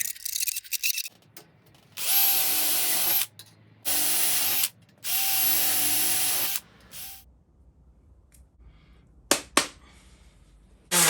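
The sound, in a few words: power drill drilling metal with sharp drill bits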